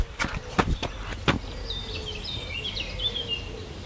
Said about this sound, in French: t'entends les petits oiseaux? J'adore, je kiffe les petits oiseaux qui chantent comme ça.